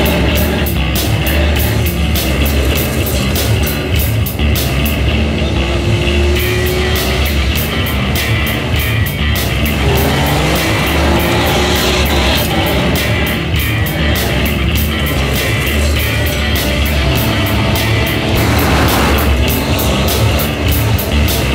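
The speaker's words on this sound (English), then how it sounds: "So I decided to take him on one final drive in the little Alto." A little Suzuki Alto small car driving on gravel makes a loud, continuous, rough roar with constant crunching and rattling from the tires over loose stones throughout. No one speaks.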